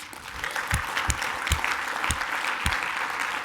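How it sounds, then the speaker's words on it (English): An audience applauding the speakers at a brand-building marketing conference, a steady wash of many hands clapping, moderately loud, with a few sharper individual claps standing out. "I want you all to give a round of applause to all the speakers"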